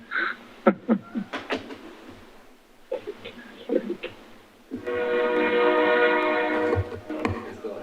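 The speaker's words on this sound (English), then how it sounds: "I got a train coming by." Passing train near a city council meeting: a loud horn blasts in sustained tones over rumbling wheels and rail noise, swelling midway. A voice speaks briefly before the horn.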